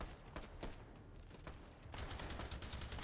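Rapid video game gunfire with infinite ammo crackles in a dense, continuous burst of shots, fairly faint and distant-sounding, with no talk over it.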